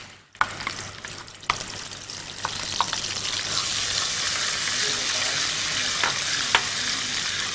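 Ground onion paste goes into hot oil in a pan, and a loud sizzle builds and settles into a steady frying hiss with occasional clicks of stirring.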